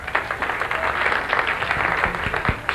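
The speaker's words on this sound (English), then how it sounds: "Applaud if you golf." Comedy club audience at Cracker's in 1989 applauds loosely in a steady, moderate wash of clapping, with scattered individual claps and crowd murmur throughout.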